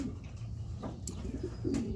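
Racing pigeons cooing close by in a loft, soft low throaty coos repeating a few times over a muffled background hum.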